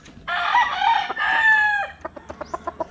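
A straight-comb stag rooster crows once in a long, strained call, followed by a quick series of short, evenly spaced clucks, close and clear.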